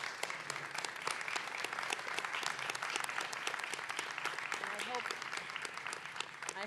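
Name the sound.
meeting audience applause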